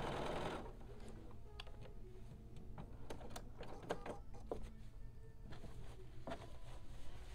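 Sewing machine stitching over joined bias binding on a summer kaftan, a quiet steady mechanical whir broken by short clicks and stops, close by with no talk.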